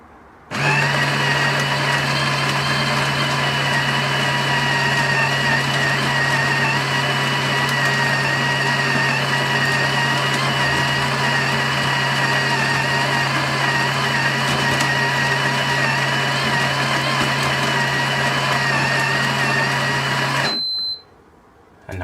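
Built-in grinder of a Ninja Luxe Cafe espresso machine grinding coffee beans at setting 8 for a double basket, a loud, steady whirring drone that runs unbroken for about twenty seconds and then cuts off abruptly.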